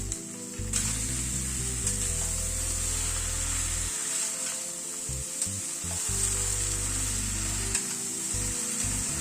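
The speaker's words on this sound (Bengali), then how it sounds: "এবার একে একে সব সবজিগুলোকে দিয়ে দিচ্ছি। হাফ চামচ নুন দিয়ে দিলাম।" Chopped vegetables fry in hot oil in a pan while salt is stirred through, a loud continuous sizzle broken by repeated scraping stirs, with no voices.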